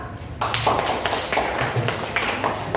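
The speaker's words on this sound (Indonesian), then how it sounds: "Silakan tepuk tangan." A classroom audience claps together after a student group's presentation, a close burst of sharp, uneven hand claps filling the short stretch with no talk.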